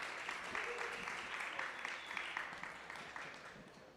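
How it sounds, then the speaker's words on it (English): An audience claps after a presentation at a livestreamed event, steady rhythmic applause from a room full of people, faint and distant, gradually tapering toward the end. "let's give Manaswi and the Magenta team a huge round of applause for such an incredible presentation"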